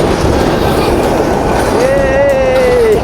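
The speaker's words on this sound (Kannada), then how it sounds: "ಆ ಕಡೆ ಟ್ರೈನ್ ಬರುತ್ತೆ" A train passes along the seaside line in Colombo, Sri Lanka, its steady rumble and rolling wheel noise filling the scene, with a long high squeal rising near the end.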